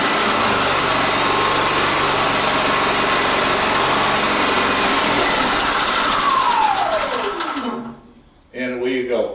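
Digital hybrid inverter generator rated 3500/4000W, remote-started and running close by: a loud steady high-pitched engine drone that holds for several seconds, then winds down in pitch and stops before a brief restart.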